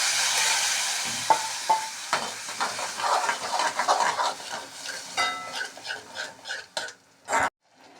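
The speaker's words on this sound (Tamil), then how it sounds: "மூங் தாலை ஆட் பண்ணணும்." Cooked moong dal tipped into a hot pan for dal tadka, then stirred with a spoon, giving scraping, clinking strokes over a soft sizzle, closer and irregular, fading toward the end.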